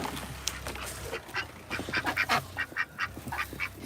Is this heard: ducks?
yes